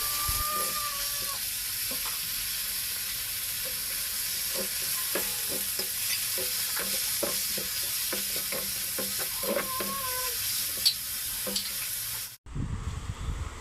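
Green chillies frying in oil in a kadai, a continuous close sizzle with frequent scraping stir clicks, ending abruptly with a brief clatter.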